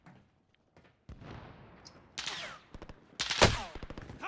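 Gunfire in Call of Duty: Modern Warfare, a few sharp shots and short bursts, ending in a loud close burst over the game's background noise.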